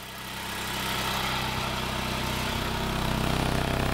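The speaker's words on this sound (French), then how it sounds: "Comme il me semblait bien entendre que l'échappement fuyait, j'ai été vérifier ça." A Citroën XM Turbo CT engine idles steadily with a leaking exhaust, a continuous close, even rumble that swells slightly at the start and holds alone without voices.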